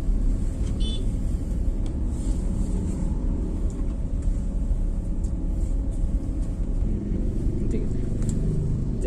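A manual car creeps slowly with the throttle released, giving a steady low engine and road rumble that runs continuously beneath talk.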